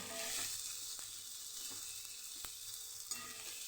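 Chopped onions sizzle steadily in a hot pan, with occasional soft clicks of stirring over a continuous frying hiss; no one speaks.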